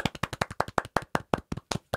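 One person clapping on a podcast, about a dozen crisp, close hand claps in an even, fairly quick rhythm over two seconds, each cleanly separated by silence.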